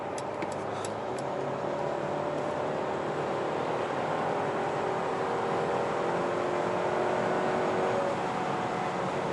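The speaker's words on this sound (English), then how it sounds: "in the Sport Plus mode you can definitely hear that engine" A turbocharged 2-liter four-cylinder petrol engine in a Mercedes E Class Coupe AMG drives steadily, a continuous broadband road and engine drone with faint tonal hum throughout, no talking.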